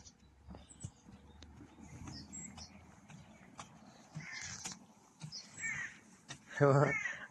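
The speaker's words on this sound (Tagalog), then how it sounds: "Malalaki mga ibon nandito." Large birds call out in the distance, with a louder harsh caw near the end, over outdoor ambience and some background voices, at a lake in Vantaa, Finland.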